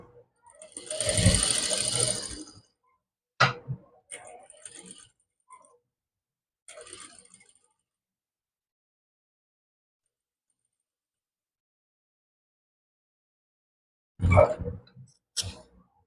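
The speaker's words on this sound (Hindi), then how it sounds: "मैं इस पर एक बार और सिलाई लगाऊंगी इसी डिज़ाइन पर" A sewing machine runs a short burst of stitching on a heavy, large-size suit design, with a few brief clicks and mechanical ticks afterward, then quiet and another short burst near the end; no talking.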